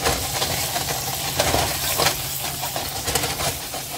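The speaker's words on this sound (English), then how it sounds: "I'm moving the steaks around in the bottom of the pan." Steaks sear in a hot pan and are shifted around with tongs, giving a loud, continuous hissing sizzle that swells and dips as the meat moves, close up and with no talk.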